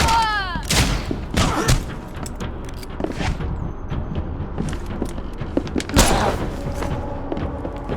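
Gunfire in the horror video game The Sinking City, several sharp shots and thuds scattered across the clip amid game sounds and footsteps, with a voice talking over it.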